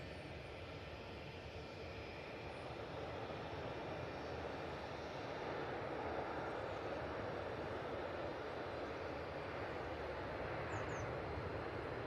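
An airplane comes in to land at Manchester Airport, its engine noise a steady, loud broadband roar that holds throughout with no talk over it.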